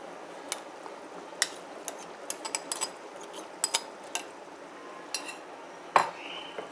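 A spoon clinks and scrapes against a pot as green chutney is added to cooked chicken, light metallic taps in an irregular run with a louder knock near the end.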